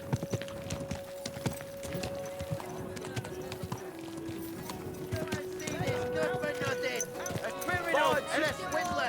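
Horse hooves clip-clop in a steady walking rhythm in the medieval video game Kingdom Come Deliverance 2, close and clear beneath a man's speech, with game music tones and crowd voices rising toward the end.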